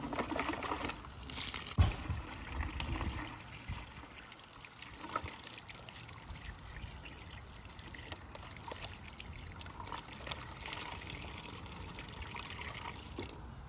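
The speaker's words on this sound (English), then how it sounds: "Here's a little faucet, on and off." A small faucet on an outdoor water container runs outdoors, giving a steady trickling, splashing stream that continues throughout at moderate level, with a brief knock near the start.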